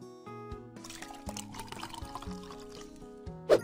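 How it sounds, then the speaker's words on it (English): A milkshake is poured into a glass in a cartoon cooking game, a soft liquid pour over light background music that ends with a brief louder splash near the end. "Pour your milkshake into a glass."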